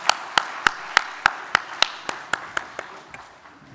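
A church congregation applauds during a Sunday worship service: a steady, evenly spaced run of crisp claps, roughly three per second, fading gradually over a few seconds with no talking.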